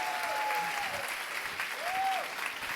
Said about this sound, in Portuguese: quem gostou, aplaude com mais vontade, com mais alegria, com mais humanidade